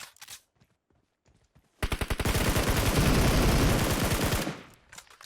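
A long automatic gunfire burst in PUBG Mobile, a rapid loud rattle of shots lasting nearly three seconds, preceded by scattered single shots and followed by a few more.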